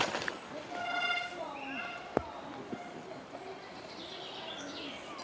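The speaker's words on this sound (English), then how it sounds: "The birds are happy." Birdsong rings out in the open air beside a downhill mountain bike race course at Crankworx Rotorua, several clear chirps and whistles over steady ambient noise with a commentator talking throughout.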